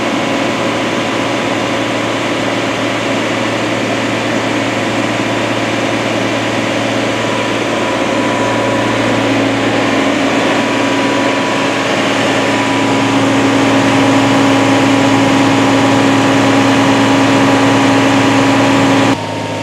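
A tractor engine runs steadily on a dyno at an event, a loud, continuous heavy drone with a sustained tonal whine that rises slightly toward the end, close and without talk.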